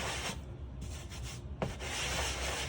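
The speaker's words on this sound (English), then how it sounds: "Going to take the sanding block here, sanding sponge." Steady, soft scratchy rubbing of a sanding sponge brushed lightly back and forth over drywall, continuous with no voices.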